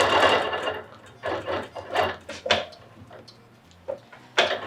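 A sewing machine stitches a quilt in uneven bursts, its rapid mechanical chatter starting and stopping with brief pauses and handling knocks between runs.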